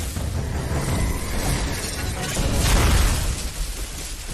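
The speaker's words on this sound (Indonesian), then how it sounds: "Ledakan demi ledakan juga tanpa henti terus terdengar." Continuous roaring, crackling explosions rumble through a fight scene, dense and loud with deep low booms swelling midway and no pause between blasts.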